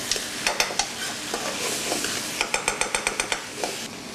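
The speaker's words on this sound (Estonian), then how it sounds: "Värsked Sinimere karbid on kinnised, aga kui nad praevad, siis nad lähevad kõik lahti." Blue mussels sizzle in a hot restaurant pan, a steady frying hiss broken by a quick run of sharp metallic clicks and clatters from stirring or shells.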